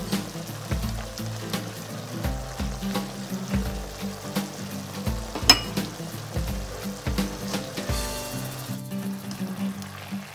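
Mushrooms and onion fry together in a pan for beef bulgogi, a steady crackling sizzle broken by repeated scraping knocks of a utensil stirring against the pan, close up.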